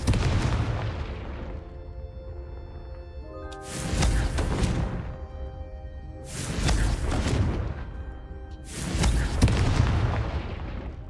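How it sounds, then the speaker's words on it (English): Confringo spell explosions in the video game Hogwarts Legacy: three loud, booming blasts arrive a few seconds apart, each with a sharp onset and a long rumbling decay over continuous dense background noise. "I like the explosion-esque."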